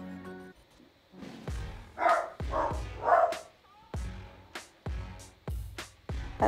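Pet dog barking indoors, a series of sharp, fairly close barks coming in irregular bursts, some doubled, with no talking over them.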